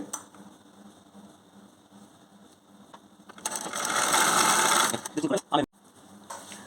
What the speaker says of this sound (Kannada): ಒಂದು ಜಸ್ಟ್ ಈ ಥರ ಒಂದು ಫೋಲ್ಡ್ ಮಾಡ್ಕೊಂಬಿಟ್ಟು ಒಂದು ಸ್ಟಿಚಿಂಗನ್ನು ಬಿಟ್ಕೊಳ್ಳಿ